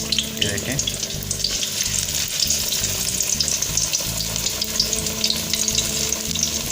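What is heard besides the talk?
potato slices in gram flour batter frying in oil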